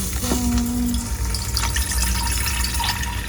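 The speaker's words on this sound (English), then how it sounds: "then you pour it over one of these like reusable filter things that still has coffee grinds in it from yesterday" Water is poured steadily over a reusable coffee filter still holding yesterday's grounds, making cold brew; a close, continuous liquid splash and trickle with a few small drips, without speech.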